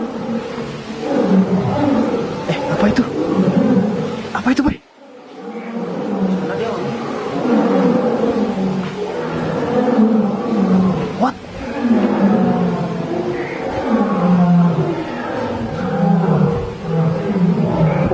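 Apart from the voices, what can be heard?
tiger roaring at Bali Zoo at night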